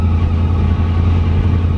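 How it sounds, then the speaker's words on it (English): A Rolls-Royce limousine pulls away with a loud, steady, low engine rumble close by, and no voices are heard. "this time it's the squeaking noise of a Rolls-Royce limousine"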